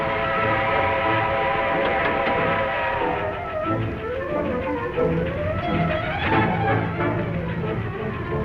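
A steam train chugs along steadily in an old radio drama, with a continuous rhythmic rumble and whistle-like tones rising over it midway, no talk heard.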